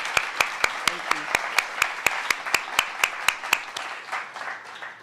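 A steady run of sharp, evenly spaced hand claps at a screening event, near and fairly loud, fading into softer scattered applause toward the end.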